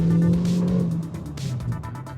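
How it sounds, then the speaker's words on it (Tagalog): A Hyundai Venue GLS with a 6-speed automatic revs up after a downshift in sport mode, a close, steady engine drone with a strong low hum that eases slightly partway through, heard from inside the car with no talking. "it lets you rev the engine out"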